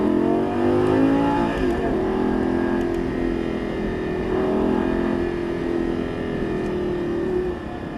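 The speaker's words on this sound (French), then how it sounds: "Je commence à réaccélérer. Et on accélère." A Lamborghini Gallardo in the racing game Actua GT accelerates hard, its engine note climbing and holding in a loud, steady drone through the gears before easing slightly near the end, with no talk.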